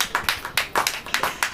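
A congregation at a Hindi-language church service claps in a series of distinct, fairly rhythmic hand claps, roughly a dozen sharp slaps in under two seconds, moderately close and without talk.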